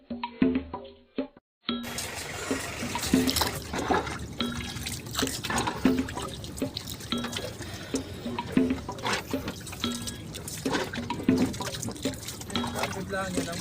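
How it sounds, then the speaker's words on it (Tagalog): Water sloshes and splashes steadily around a dragon boat during rowing training on Manila Bay, with a rhythmic thump of strokes and voices calling out over the wash. "Kapit lang, yan ang alon."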